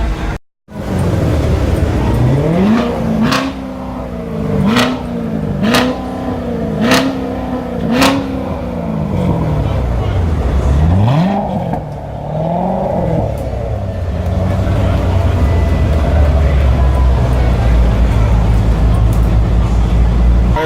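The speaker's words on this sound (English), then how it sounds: "they were over here revving the Corvette Grand Sport" A Corvette Grand Sport at a NASCAR race day revs repeatedly, its engine note climbing and falling in a steady series of swells close by, then settling into a loud rumbling idle amid crowd noise.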